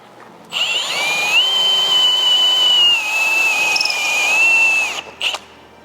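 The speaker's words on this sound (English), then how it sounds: "So we're going to try using a stepper bit." A power drill spins a step drill bit through metal on a Ford Bronco Everglades to make a hole for light bar wiring, giving a steady high whine of about four seconds that starts and stops abruptly.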